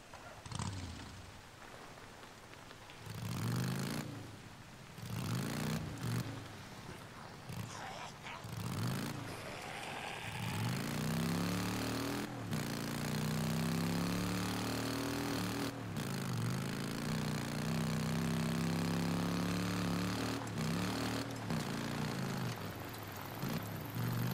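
Motorcycle engine idling and revving in the Days Gone video game, a steady low rumble with a few surging bursts at the start, then settling into a continuous loud drone for the rest of the stretch.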